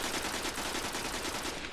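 Rapid full-auto gunfire from a weapon in the video game Destiny, a dense unbroken burst of shots running loud and close for the whole stretch, with no talk over it.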